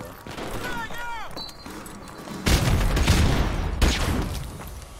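Heavy rapid gunfire from a fast-firing gun in Modern Warfare Remastered comes in two loud sustained bursts. Talk and synthetic chirps are heard before the shooting.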